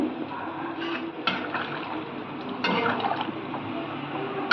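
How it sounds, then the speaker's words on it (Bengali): Water poured into a pan of sautéed potato and cauliflower curry gives a close, continuous liquid rush with a few louder splashing surges, and no one talks. "আলু ফুলকপি কষা হয়ে গেল, এবার জল দিয়ে দেবো।"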